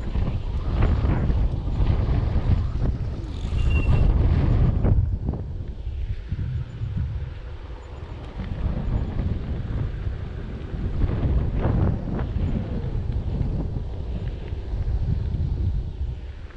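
Steady wind buffeting the microphone in a Southern Maryland park, a loud low rumble that gusts and eases throughout with no one speaking.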